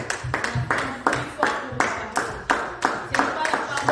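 A church congregation claps together in a rhythmic, steady beat at close range, the applause strong and continuous with voices mixed in underneath.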